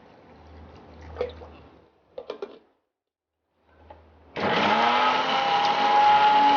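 A few soft clinks and taps, a pause, then a mixer grinder starts up grinding an onion masala paste with a loud, steady whir and keeps running.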